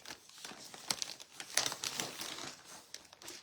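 A sheet of orange craft foam being handled, giving close, quiet crinkling and rustling with a few sharper scrapes, alone without talk.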